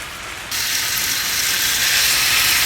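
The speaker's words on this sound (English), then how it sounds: "Now we're just gonna flip it to get a nice sear on that side" A steak sears loudly in a hot pan just after being flipped, a bright steady sizzle and hiss that jumps up sharply at the turn and keeps crackling on its own.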